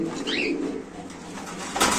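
Pigeons coo at a busy pigeon market, a soft, close burble that continues for the whole moment with a brief rustle near the end and no clear speech.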